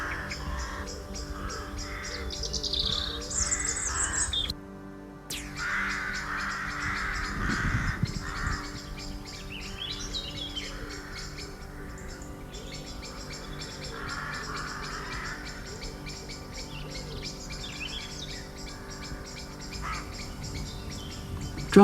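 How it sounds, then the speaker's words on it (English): Rooks and wood pigeons call at a rookery in Nettlecombe; steady outdoor bird chatter with repeated caws carries throughout, moderately loud and unbroken by speech. "the sound of Nettlecombe for me is the rookeries and wood pigeons"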